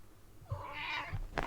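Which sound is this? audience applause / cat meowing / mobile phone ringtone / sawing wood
cat meowing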